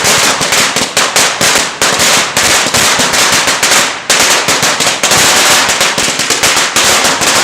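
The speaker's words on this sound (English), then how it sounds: "You ever have a string of firecrackers and light one and it goes..." A string of firecrackers crackles off in a rapid, dense run of sharp pops, loud and close, with one brief gap midway before the bursts resume.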